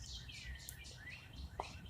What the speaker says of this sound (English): I'm listening to the birds in the park.